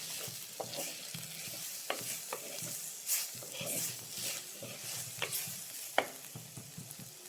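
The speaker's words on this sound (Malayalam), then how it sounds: "അതിനുവേണ്ടി നന്നായിട്ടൊന്ന് സോട്ട് ചെയ്തെടുക്കുക." Spice powders sautéing in hot oil in a pan for a chicken parts curry, soft continuous sizzling broken by scraping stirs and occasional sharp clinks of the spoon against the pan, close and moderately quiet.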